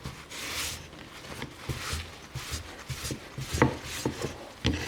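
An old block plane is rubbed down by hand, soft rhythmic scrubbing strokes with small clicks and knocks, quiet and close, with no talking.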